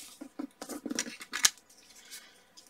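Paper being cut with a small cutter for circle cards: faint, close snips and short rasping strokes, quick and irregular, with a brief sharp click.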